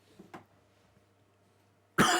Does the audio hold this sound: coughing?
yes